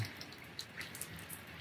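Light, patchy patter of rain with scattered drips, soft and steady with no voices.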